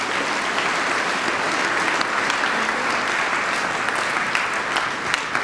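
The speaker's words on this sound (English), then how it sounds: "Would you give all of our student leaders a round of applause?" A school assembly audience gives student leaders a sustained round of applause, dense steady clapping from a large crowd filling the hall at an even loudness throughout.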